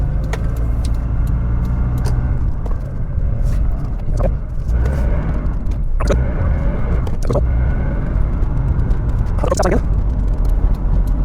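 A 2004 Honda CR-V, just fitted with a new brake master cylinder, drives slowly around the block from inside the cabin, with a constant low road and engine rumble and a few sharp clicks and knocks scattered throughout.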